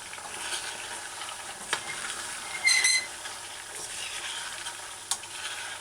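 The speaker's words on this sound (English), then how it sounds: "This is deep fry" Pork pieces deep-fry in hot oil for a pork pepper stir-fry, a continuous bubbling sizzle with occasional clinks and scrapes of stirring, a brief louder burst midway, no talking.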